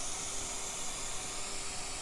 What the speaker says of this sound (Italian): questo è il rumore rosa